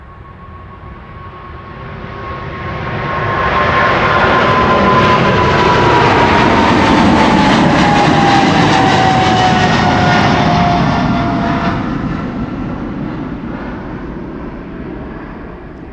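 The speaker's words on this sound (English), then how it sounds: "The PHBVB, Bravo Victor Bravo, 777-300 going to Willemstad, Curaçao." A KLM Boeing 777-300, registration PH-BVB, first flown in March 2008, takes off from Amsterdam Schiphol runway 24 bound for Curaçao. A loud, sustained jet roar swells, peaks for several seconds with a gliding engine whine, then slowly fades.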